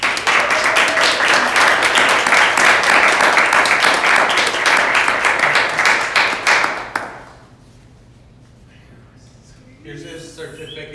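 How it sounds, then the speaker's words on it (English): A room of guests at a holiday dinner gives loud, sustained applause for newly initiated members. The dense clapping runs for about seven seconds, then drops away to quiet room tone with a few faint sounds at the end. "please give them a round of applause"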